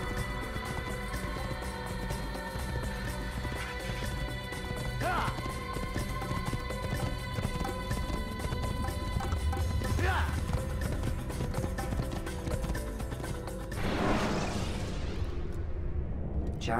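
Horse galloping in the video game Assassin's Creed: a fast, steady drumming of hooves that runs throughout under a dense game soundscape, with a louder whooshing swell near the end and speech mixed in.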